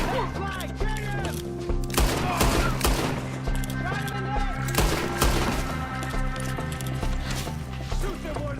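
Repeated gunfire from a Red Dead Redemption 2 shootout, sharp shots and bursts cracking throughout over a steady game music bed, with a character's voice shouting in the clip.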